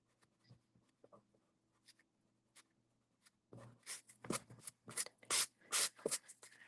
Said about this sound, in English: we can go ahead and erase all of our lines so that all we have left